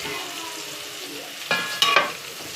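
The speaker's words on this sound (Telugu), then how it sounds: "ఇటు సైడ్ ఫ్రై ఆనియన్స్ కూడా బాగా ఫ్రై అయిపోయాయి ఫ్రెండ్స్, బ్రౌన్ కలర్లో వచ్చేసాయి." Onions frying in a pan until brown give a steady close sizzle, then a few sharp metallic scrapes and clinks of stirring near the end.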